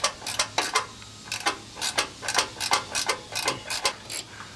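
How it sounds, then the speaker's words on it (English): A ratcheting wrench loosens a nut on a Ford F150 during a lift kit install, giving a series of sharp, evenly spaced ratchet clicks close up. "I just take my ratcheting wrench here and ratchet it loose"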